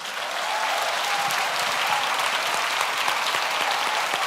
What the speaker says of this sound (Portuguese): Vamos aplaudir a sonoplastia da igreja